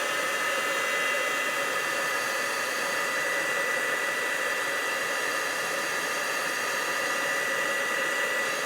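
A heat tool or hair dryer blows with a continuous, even whooshing drone while drying a wet tea bag laid on a craft card, steady throughout with no voices.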